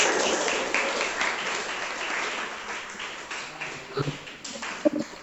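A classroom audience applauding, a dense burst of clapping that starts strong and slowly thins out into scattered claps, with a few sharp taps near the end and no speech.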